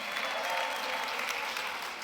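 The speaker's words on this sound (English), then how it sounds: "Give yourselves a round of applause for being here this evening." Audience applause fills a packed evening venue, with steady, dense clapping sustained throughout at even loudness.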